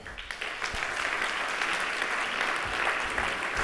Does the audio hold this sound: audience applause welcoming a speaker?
yes